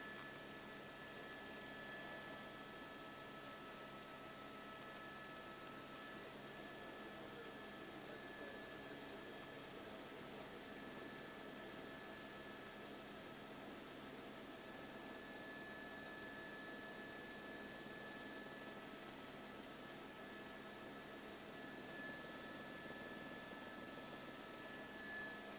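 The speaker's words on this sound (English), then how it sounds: "an LA County Sheriff's helicopter right over the LA River, tracking his move as well" An LA County Sheriff's helicopter flies low, a couple hundred feet over the LA River while tracking a police chase, heard as a faint, steady, distant rotor-and-engine drone with no break in the sound.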